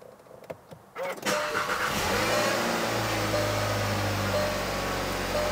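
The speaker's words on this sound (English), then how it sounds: "Now I'm gonna start the engine." A 2018 VW Jetta with a 1.8L engine, fresh from spark plug replacement, cranks and catches after a few faint clicks, then settles into a steady, loud idle hum close by.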